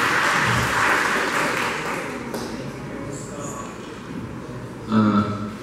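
Applause for a historian at a public-archive talk in Uberaba. A burst of clapping fades out after a couple of seconds, and voices and room sounds carry on.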